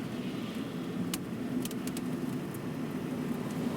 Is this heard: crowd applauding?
no